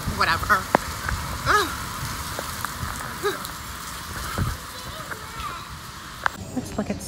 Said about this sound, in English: It just started to rain like literally right now